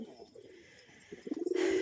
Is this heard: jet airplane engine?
no